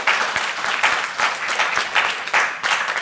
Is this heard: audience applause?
yes